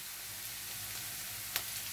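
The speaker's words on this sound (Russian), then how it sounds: "Наш лучок почти обжарился." Chopped onion and garlic sizzling in oil in a frying pan, a steady soft crackle with one small pop, quiet and continuous with no talking.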